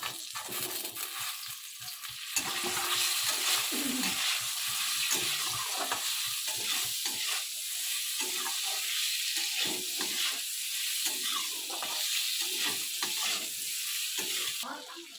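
Boiled mango stirred into a pan with plumped raisins for mango chutney, a steady soft sizzle and frying hiss with scraping spoon strokes, close and continuous without talk.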